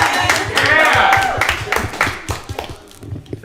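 A small group claps in scattered, uneven bursts at a girls lacrosse state championship celebration while voices shout and talk over it, loud and close.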